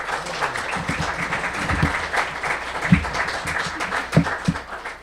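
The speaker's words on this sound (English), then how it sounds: "a big round of applause for our facilitators" Scattered applause from a small audience at an interfaith book club gathering, uneven claps with a few sharper hand slaps standing out nearby, fairly light and brief.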